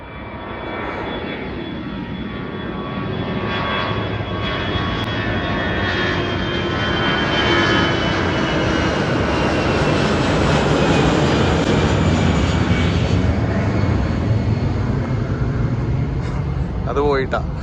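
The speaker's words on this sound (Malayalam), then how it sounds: "അവിടെ നിന്നൊരു ഫ്ലൈറ്റ് വന്നുകൊണ്ടിരിക്കുന്നുണ്ട്. അത് ഇപ്പോൾ ടേക്ക് ഓഫ് ആവും." A large airliner, a Boeing 777, takes off near Kochi airport and passes overhead, its jet roar swelling steadily and loud for the whole stretch while people talk beneath it.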